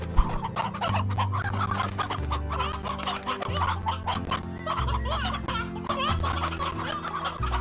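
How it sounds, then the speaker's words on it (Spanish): Chickens in the video game Slime Rancher cluck and squawk continuously over looping game music, several birds overlapping in busy, fairly loud bursts with no talking. "Ah, pero tenemos 4 gallos ahora en vez de 3."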